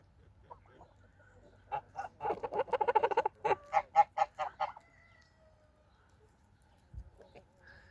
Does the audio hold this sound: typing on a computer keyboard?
no